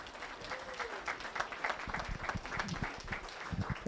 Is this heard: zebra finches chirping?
no